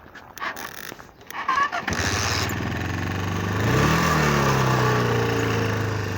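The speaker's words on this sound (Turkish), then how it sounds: "Gördüğünüz üzere şu an motor çalışıyor." A motorcycle with a weak battery is kick-started with a few clunks, then its engine catches and runs as a loud, steady, close idle with a slight rise partway through.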